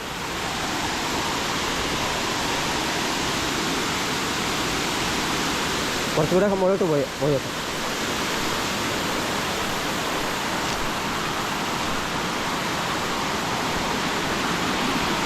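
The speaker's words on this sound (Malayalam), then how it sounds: "ഈ വെള്ളച്ചാട്ടത്തിന് അടുത്തൊക്കെ പോയി നിൽക്കാം" Oliyaruk (Erappu) waterfall roars with a dense, steady rush of falling water heard up close, broken briefly by someone speaking over it.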